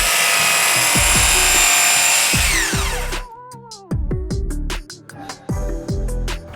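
Material for a camper van shower is cut down by an inch with a power tool, a loud sustained whine for about three seconds followed by short intermittent bursts of cutting and knocks.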